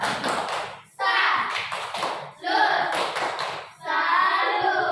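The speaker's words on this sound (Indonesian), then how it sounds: "Tepuk salut." A classroom of students performs a rhythmic 'tepuk salut' clapping routine in bursts separated by short pauses, with voices chanting along between the patterned claps.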